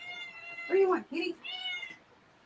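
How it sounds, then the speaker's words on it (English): A house cat meows a few times in quick succession, fairly close and clear, during a live paranormal investigation panel. "Oh, I hear the kitty."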